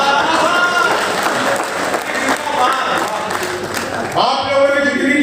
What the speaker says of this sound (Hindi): आप लोगों ने जितनी तालियां बजा दी उतनी की उम्मीद मुझे नहीं थी